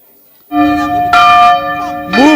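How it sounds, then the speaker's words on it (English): A bell in a conference hall, rung to signal a move to the next table, sounds a sustained ringing tone that rises loudly, then rings again with fresh strikes, resonant and close. "The next bell you will hear, please move to the next table."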